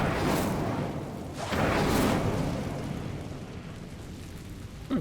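Incendio fire spell in Hogwarts Legacy burning spider webs: two roaring whooshes of flame, each swelling then fading into a crackling rush, with a short burst at the end.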